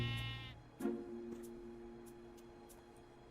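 A sheep in the Minecraft video game gives a short bleat at the start, then a second bleat follows under a steady, quiet game background.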